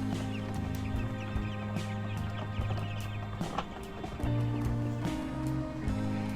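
Pastured poultry chickens clucking and calling in a steady, overlapping stream, with scattered soft scratching and movement sounds close by and no talking.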